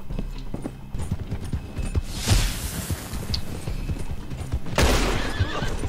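Horses neigh and whinny loudly in the Red Dead Online video game, with steady galloping hoofbeats drumming underneath throughout and two louder whinny bursts standing out.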